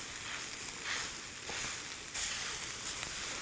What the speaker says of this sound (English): just make sure you stir it all up and stir it all together so that all the seasoning gets into the tofu also